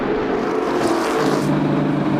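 NASCAR race cars roar down the back straightaway during a multi-car crash, a dense, loud engine drone with revving swells and no clear impact.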